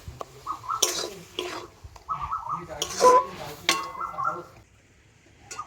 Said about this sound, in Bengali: তো লবণ আর হলুদ দিয়ে তো আমটাকে একটু ভালোভাবে নাড়াচাড়া করবো